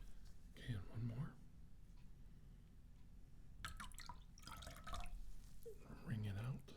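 A wet mummy wrapping cloth being wrung out, with soft close drips and trickles of water in short bursts, faint and intimate, mixed with quiet whispered speech.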